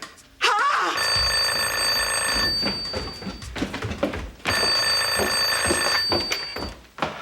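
An old-style telephone bell rings in two long, loud bursts separated by a pause, with indoor thumps in between.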